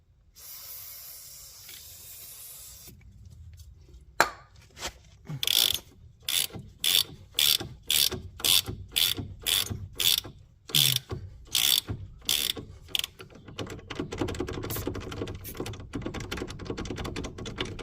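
Ratchet with a 16 mm socket loosening a steering ball joint on a Renault Clio 2, a steady series of loud, close, rapid clicking bursts after a hissing spray, with metallic handling noise afterward.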